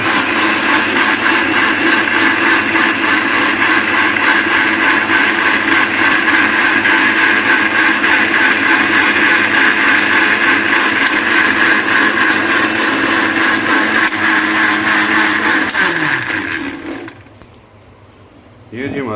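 Electric blender whirring steadily as it blends tamarind and plum sharbat with sugar and water, a loud continuous motor drone that runs for most of the clip, then winds down and cuts off near the end.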